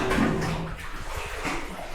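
Sea water washes and sloshes inside a rocky grotto, a steady hollow rushing noise that fills the short moment with no voices.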